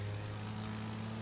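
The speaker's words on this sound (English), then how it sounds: "I'm using a plane because it just goes faster than the cars." Plane flying in the racing game The Crew 2, a steady droning propeller engine hum with a strong low tone, brief and constant, no speech.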